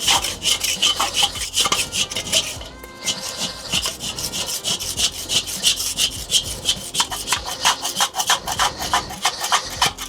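Wire brush scrubbing grease off the grate of a Weber Master-Touch charcoal grill, a steady run of rapid back-and-forth rasping strokes close up, with a brief pause partway through.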